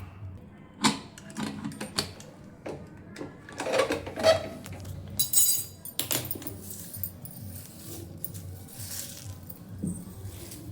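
Steel utensils from tea-making being scrubbed and washed in a home kitchen in the evening, with irregular clinks, scrapes and knocks at close range, some sharp metallic hits standing out among softer rustling.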